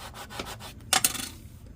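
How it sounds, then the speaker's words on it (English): A tool rubs paper firmly onto a craft card in quick scraping strokes, a handful of short close rasping passes ending in one louder pair. "Give it a good burnish."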